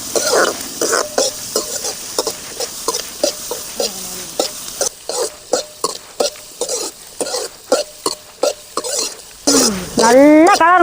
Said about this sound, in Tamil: நல்லா எண்ணெயிலேயே பொறிச்சு எடுத்துக்கணும்